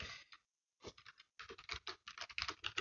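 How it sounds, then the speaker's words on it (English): Quick, uneven patter of keystrokes on a computer keyboard while a confirmation code is typed into an email program, arriving in close bursts separated by brief pauses. "I probably have to type both"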